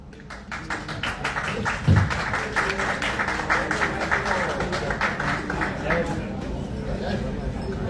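An audience claps at a grand film event stage show. The clapping comes as rapid, dense applause through most of the stretch, with a speaker's voice over it.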